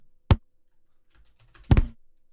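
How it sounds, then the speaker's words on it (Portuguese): Two sharp pops from a library sound effect of a car exhaust backfire, a lone crack followed over a second later by a second louder burst with a brief rumble. "gasolina vai pro escapamento e aí com calor explode e faz esse estouro."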